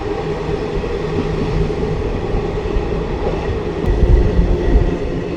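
A train runs through Baddowal station without stopping, heard from on board as a steady loud rumble of wheels on rails, swelling slightly near the end.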